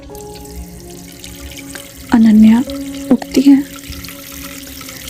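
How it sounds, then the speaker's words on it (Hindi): Water runs steadily from a bathroom tap late at night, a soft continuous rush in the background while a narrator speaks over it in short phrases. "बाथरूम से पानी के गिरने की आवाज़ आने लगती है।"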